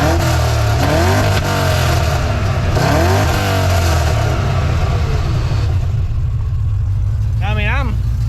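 A 1967 Camaro's engine runs and revs twice in quick bursts, settling to a loud rumbling idle, followed by a brief sharp blip near the end.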